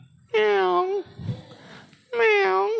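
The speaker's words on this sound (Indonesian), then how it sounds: "Kucing di samping rumah siapa nih ya?" A cat beside a house meows twice, with clear, loud, drawn-out calls separated by a short pause and no talking.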